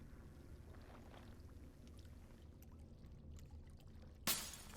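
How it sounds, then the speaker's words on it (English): In a fantasy role-playing video game, water is poured from a jug back into a fountain pool as a soft, faint trickle under quiet ambient wind, and a sharp splash-like burst lands near the end. "And dump the water in the jug back into the pool."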